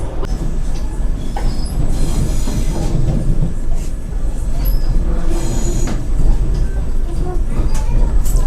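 Vande Bharat Express, also called Train 18, running between Secunderabad and Tirupati near Nalgonda, with a steady loud rumble and rattle of the carriage throughout and occasional faint wheel squeal.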